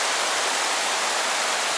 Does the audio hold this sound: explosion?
no